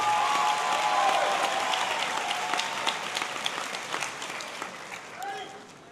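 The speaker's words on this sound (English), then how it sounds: "Give them a round of applause." Graduation ceremony audience at Martinsville High School applauding the graduates, a dense wash of steady clapping that fades toward the end, with cheering voices and whoops mixed into the crowd.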